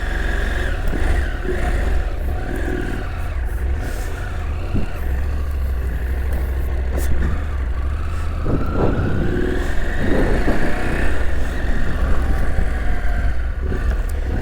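A car engine runs steadily as the car hops a curb at the edge of a driveway, with a couple of low thumps and a brief surge of engine effort partway through, all close and fairly loud.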